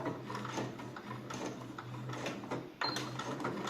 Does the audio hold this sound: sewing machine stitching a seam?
yes